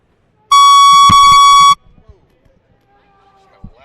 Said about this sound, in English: Loud beep in my ear.